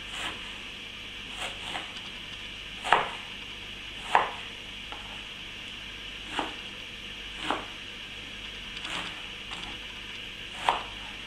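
Knife cutting eggplant into small cubes on a board, sharp isolated chops spaced a second or two apart over a steady quiet background hiss, close and fairly soft.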